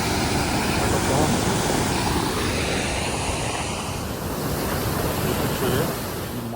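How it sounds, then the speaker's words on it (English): Powerful rushing water near Lake Champlain by Fort Ticonderoga, a loud, steady broadband roar of surging flow that fills the whole scene with little change and no clear speech over it. "Now look at the power of the water."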